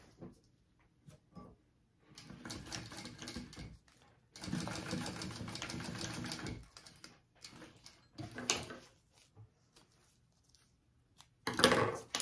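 A sewing machine stitching fabric pieces together at their seam allowances runs in several short bursts of steady, fast mechanical whirring and ticking, close and moderately loud, separated by quiet pauses and a few small clicks.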